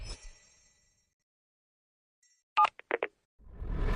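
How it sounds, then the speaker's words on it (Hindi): A phone rings in short electronic bursts, a few tonal pulses clustered together after a stretch of near silence, with a swelling rumble of noise following at the end. "ये तो रिंगटोन है।"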